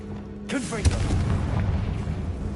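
A Confringo fire spell blast in Hogwarts Legacy lands as a deep booming burst with a rumbling tail, heard close and loud just after a voice calls out.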